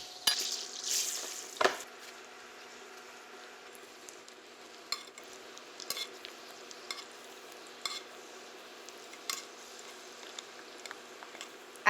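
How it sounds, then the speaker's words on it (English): Butter sizzling and foaming in a hot pan on the stove, a steady soft hiss broken by a few sharper crackles and spatters, close and fairly quiet with no talk. "as the butter starts to foam, it's really telling me that it's starting to brown"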